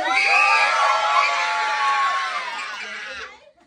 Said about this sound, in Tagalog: Isang sigaw muna from Team Boy!